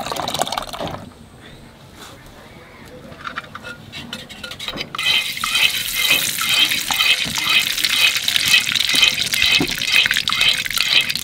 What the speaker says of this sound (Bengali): এইবার মশলা দিয়ে জলটা দিয়ে দেব।